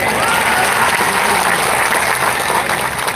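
Applause from a large crowd at a political campaign rally for an MLA, a dense and loud clapping that holds steady for a few seconds with no pause.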